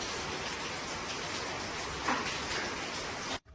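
Heavy rain pours steadily outside in a thunderstorm, a dense, even hiss of downpour with a slightly louder gust of drops midway, cutting off abruptly near the end.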